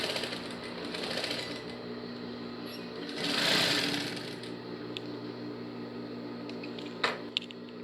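A sewing machine runs a seam on a women's overall jumper, a low steady hum with a faint stitching rhythm, joined by a louder rustle midway and a couple of sharp clicks near the end.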